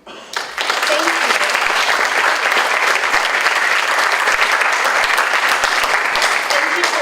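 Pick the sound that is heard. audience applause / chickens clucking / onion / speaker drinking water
audience applause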